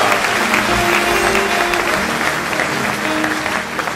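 Church congregation applauding and cheering at a baptism service in Sarcelles: dense, steady clapping fills the whole stretch, loud and sustained, with a few voices mixed in.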